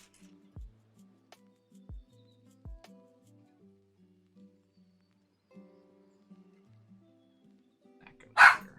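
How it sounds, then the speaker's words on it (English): Dogs bark in a few sharp, spaced single barks at middle distance, with quiet stretches between them and a louder burst near the end. "Let me go figure out what they're barking at."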